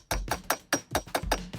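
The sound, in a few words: hammer hitting a pin into a Pelican cooler latch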